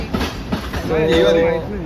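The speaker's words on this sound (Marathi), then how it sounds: "त्याला इकडून आमची लोकल आली" A Mumbai local train rolls into Thane station with rumbling wheels and a rising metallic squeal of brakes, heard close by with voices and station noise around it.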